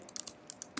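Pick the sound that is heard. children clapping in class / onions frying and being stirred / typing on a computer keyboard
typing on a computer keyboard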